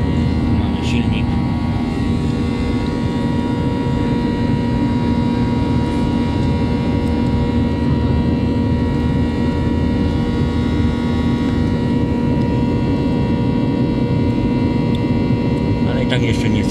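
Airplane engine drone during flight on a trip to Greece, a loud steady hum with tonal lines filling the cabin throughout, unchanging and continuous.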